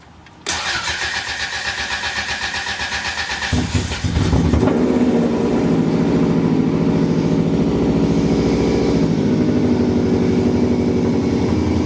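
A Subaru EJ207 rally car engine cranks briefly, then catches and roars to life, settling into a steady, loud idle that continues to the end.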